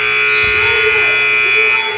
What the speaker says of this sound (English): At the buzzer.